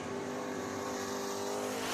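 Factory stock race cars roar around the Deep South Speedway oval, a dense, steady engine drone with revving layers and faint tire noise, close and continuous throughout without any talk.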